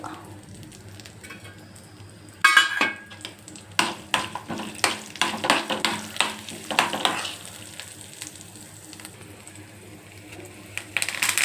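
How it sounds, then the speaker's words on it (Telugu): Dried red chillies, spices and curry leaves fry in oil for a tempering, giving a sharp burst of sizzle followed by repeated stirring scrapes and crackling spatter, close and steady. "ఎండుమిరపకాయలు కరివేపాకు అన్నీ తాలింపు పెట్టుకోవడం"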